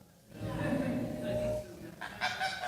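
A goose honking, two short bursts of nasal calls, the first drawn out and the second choppier, moderately close over a quiet room background.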